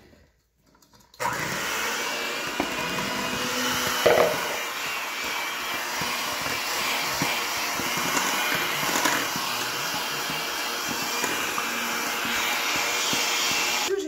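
An electric mixer whirs steadily while blending Toll House chocolate chip cookie dough, the dry ingredients going into the wet; a loud continuous motor drone kicks in after a second of quiet and runs throughout.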